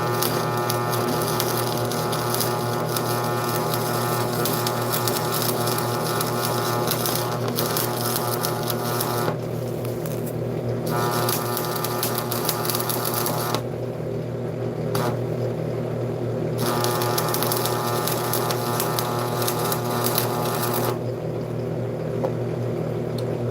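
Steady, dense buzzing and crackling from steel being welded on a Chevy to repair holes, continuous and loud with a few brief pauses, close to the microphone.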